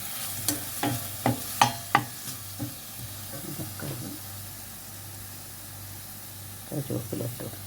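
Chopped tomato is sautéed in a pan for a fish curry, with a series of sharp spoon scrapes and knocks at the start and again at the end over a faint low sizzle.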